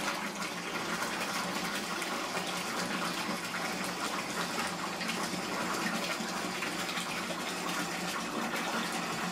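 Bathtub filling from a running tap, a steady broadband rush of pouring water that continues evenly from start to finish with no voices.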